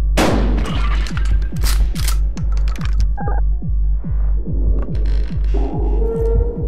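A shotgun fires in the video game Buckshot Roulette, heard as a run of regular heavy thuds over a low throbbing hum, with mechanical clicks and a brighter tone late on; loud and close, with no talk.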